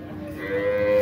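A single dairy cow moos at a livestock market, a long low call that swells louder as it goes, close and clear with no talking.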